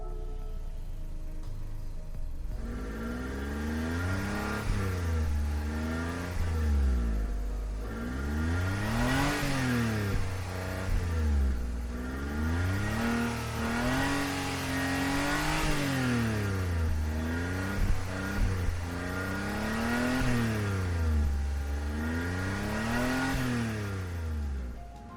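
A Suzuki Carry KC 2012 kei truck engine in Gran Turismo 7 revs up and down repeatedly in a steady rising-and-falling rhythm, loud and close with no talk.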